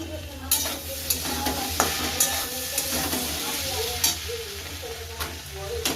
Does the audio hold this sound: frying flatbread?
yes